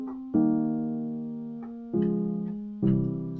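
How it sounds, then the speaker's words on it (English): A soft piano VST from Spitfire Labs plays three gentle sustained chords one after another, each struck softly and left to ring out cleanly and quietly, with no voices. "there's this cool piano VST called Spitfire Labs"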